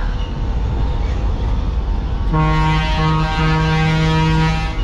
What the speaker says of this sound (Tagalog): Bumusina na.